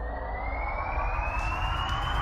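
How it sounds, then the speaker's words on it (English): A shrill siren sound effect from a sci-fi tabletop RPG session, one steady high tone sliding slowly upward and sounding loud and continuous over a dense low rumble. "A shrill siren sounds out and then is silenced"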